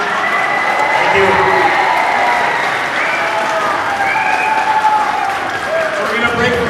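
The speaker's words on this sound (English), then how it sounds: "let's give him a round of applause, show our appreciation" An audience gives a sustained round of applause for a guest at a public event, dense clapping close by, with a few faint cheers and voices mixed in.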